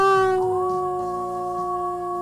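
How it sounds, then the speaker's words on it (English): A long, steady howl played as a sound effect, loud and sustained with a bright, even pitch that tapers slightly toward the end, heard alone without any talk. "Now that howl officially means your weekend has begun."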